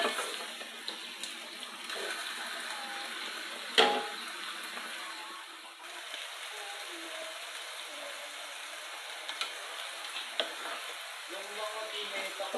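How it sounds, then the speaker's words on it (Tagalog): Pork for Bicol express sautéed and stirred in a pan, a steady soft sizzle with a sharp utensil knock and light clatter, while a person talks over it. "haluin muna natin. Sasangkot sa lang muna natin."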